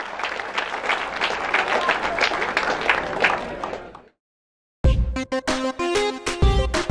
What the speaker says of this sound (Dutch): Applaus voor de beste jongeren, Marijn Korevaar.